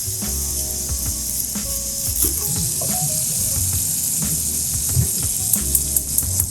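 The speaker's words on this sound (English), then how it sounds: "I'm gonna throw some onions in there, a red onion" Red onion sizzling in a hot pan, a steady bright hiss with occasional pops and stirring scrapes close by.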